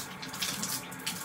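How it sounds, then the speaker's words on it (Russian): Water streams steadily from a tap, a close, continuous hiss and splash with no voices. "включаем водичку."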